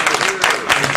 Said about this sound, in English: Can we give our trustees a round of applause?